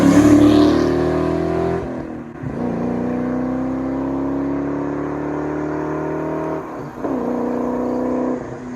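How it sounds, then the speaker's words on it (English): A 1996 Ford Mustang GT runs steadily and close by, a smooth low drone with layered tones that dips briefly twice before settling back into an even idle-like hum. "The 96 GT is back up and running."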